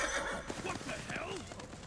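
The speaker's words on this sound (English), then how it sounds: "A horse?" A horse in the anime Vinland Saga lets out a loud, wavering neigh that rises and falls over about two seconds, with faint hoof clatter and a busy soundtrack underneath.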